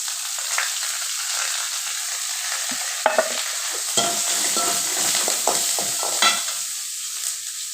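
Carrot, onion, chilli and boiled potato sauté in a pan, a steady bright sizzle close by with scattered spatula scrapes and taps.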